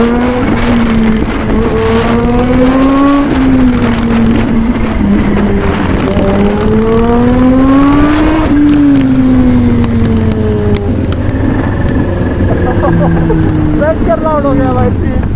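A loud motorcycle engine, a Kawasaki ZH2 or Harley Fat Boy, revs and drones close by, its pitch rising and falling in long sweeps over steady road rumble, with voices faintly underneath.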